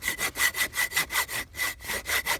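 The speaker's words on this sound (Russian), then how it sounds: "А я пока пробую, как пилит моя новая пила." A new Outventure hand saw cuts through wood on a winter camping trip in freezing cold, its close, steady back-and-forth rasping strokes rising and falling about ten times, with no talking.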